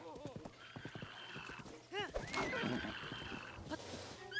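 Horse in the open-world adventure game The Legend of Zelda: Breath of the Wild whinnying and snorting at mid distance amid hoof clip-clops, fairly faint, with a player's voice talking over it.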